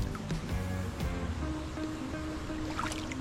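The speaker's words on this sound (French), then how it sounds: "c'est les herbes sur le kayak qui font ce bruit" Lake water plants brush and scrape along a kayak hull on a lake in the Bugey, a continuous rustling, swishing texture close by with faint watery sounds, no voices.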